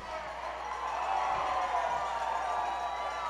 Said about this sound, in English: American team cheering.